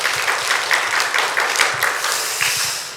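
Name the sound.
church congregation applauding for teachers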